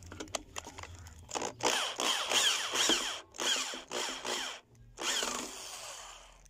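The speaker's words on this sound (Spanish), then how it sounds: "Y ahora vamos a apretar este tornillo." Power drill driving screws while repairing a Maytag washing machine with a transmission fault, several short whirring bursts with pauses and clicks between them, close and fairly loud.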